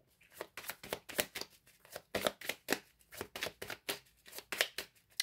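A tarot deck shuffled by hand for a card reading, a steady run of crisp riffling and slapping bursts at close range, with no voices over it.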